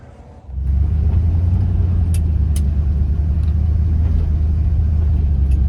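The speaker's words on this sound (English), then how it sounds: "Taking it on a test drive of the highway after I did the choke removal." A 1979 Dodge step-side pickup cruises on the highway after a choke removal, its engine and road rumble jumping in after a quiet start and then holding a loud, steady low drone from inside the cab.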